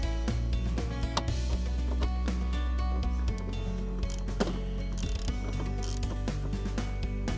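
Ratchet wrench working a single seat bolt inside a BMW E-series during rear seat and door trim removal, a steady close mechanical clicking and grinding running throughout with no talk.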